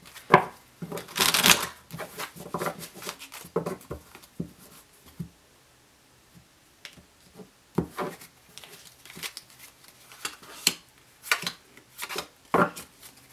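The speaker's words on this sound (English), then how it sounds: "do you guys like me shuffling the deck on camera?" Crisp riffling bursts and soft taps of cards being shuffled and handled, irregular and close, with quiet gaps between.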